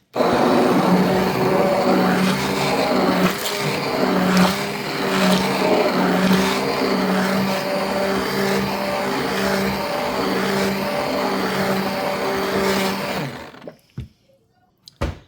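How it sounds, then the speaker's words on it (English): A blender whirs loudly as it purees tomato sauce with salt and sugar for canning, a steady, close motor drone with pulsing churning that runs for about thirteen seconds, then cuts off abruptly, leaving a few faint clicks. "Now we're going to blend this together"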